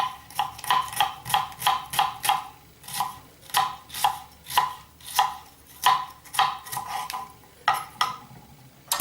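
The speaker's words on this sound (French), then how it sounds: "Un oignon ciselé rapidement." A knife chops an onion coarsely on a cutting board in quick rhythmic bursts of sharp, close thuds, with brief pauses between runs of strokes.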